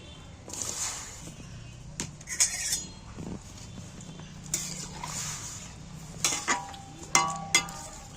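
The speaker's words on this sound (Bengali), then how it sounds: "আলুগুলো এবার আমি কড়ার জলে তুলে দিচ্ছি" Potatoes dropped into water in a wok, heard as quiet scattered clinks, knocks and small splashes in an irregular rhythm, faint and close, with no voices.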